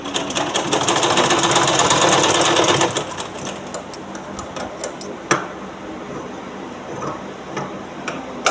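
A sewing machine stitches blouse pieces together with a steady, fast mechanical whirr and ticking that runs close and clear, then slows and turns lighter and more intermittent partway through.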